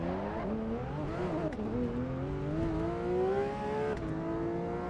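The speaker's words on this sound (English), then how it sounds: "I love the sound of a flat 6 engine." A Porsche 911 GT3 RS, 992 generation with the Weissach package, howls through its flat-six in a racing game on track, revving up through gears with brief dips at shifts, loud and continuous.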